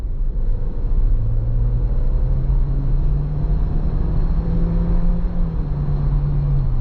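A 2025 LDV D90 SUV engine drones under full-throttle kick-down acceleration, a steady loud rumble with a rising engine tone inside the cabin, heard alone without talk.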